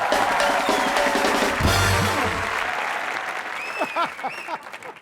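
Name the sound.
studio audience applause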